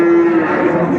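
A cow moos loudly and close by at a cattle market, one sustained, steady low call holding through the whole moment with general market bustle behind it.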